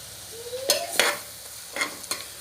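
Ginger, garlic and green chili paste frying with softened onions for tomato bath: a quiet background sizzle broken by a few sharp spoon-stirring scrapes and clacks, with no voices.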